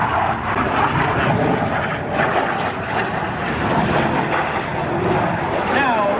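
Red Arrows jet at an airshow in Wales trailing white smoke, a loud continuous roar with rumbling, crackling texture and a rising whine near the end, steady throughout, with a commentator talking over it.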